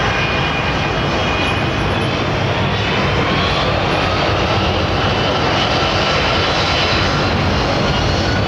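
A passenger jet with Pratt & Whitney engines roars loudly and continuously at Heathrow, a dense broad engine rumble with a faint whine riding on top.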